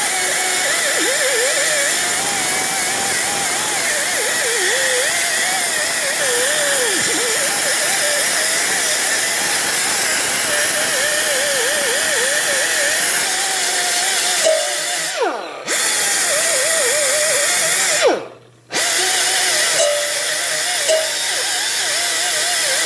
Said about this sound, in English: You can use a wire wheel or a little sander.